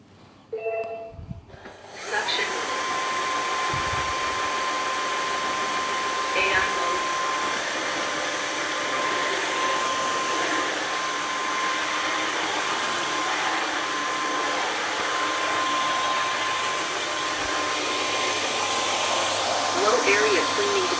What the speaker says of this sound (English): So now that I've vacuumed all the hair up